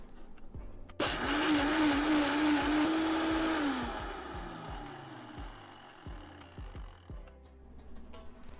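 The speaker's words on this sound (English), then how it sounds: "and blend that up" A blender whirs loudly for about three seconds, blending vegan dip ingredients with a cup of unsweetened non-dairy milk and a pinch of salt, then winds down to quieter kitchen sounds.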